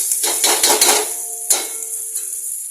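Spices fry in a pan with clinks and scrapes as the spoon stirs, a few sharp knocks of metal on metal over a soft steady sizzle, close and fairly loud, no voices.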